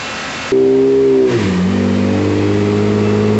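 2015 V6 Camaro engine on a dyno, cutting in loudly and revving with a climbing tone that drops as the gear changes, then holding a strong, steady drone.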